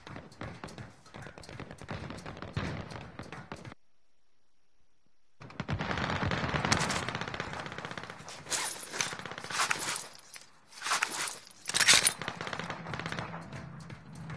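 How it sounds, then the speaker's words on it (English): Assault rifle gunfire in the video game Warzone: bursts of rapid automatic shots at moderate distance, a gap of silence, then more sustained volleys and sharp individual shots, with no talk. "Assault rifle."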